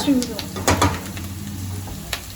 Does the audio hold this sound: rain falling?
no